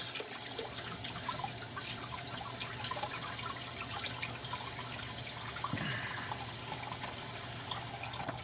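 Vegetables are rinsed under a running kitchen tap, giving a steady, continuous hiss and splash of water throughout, moderately close, with no speech.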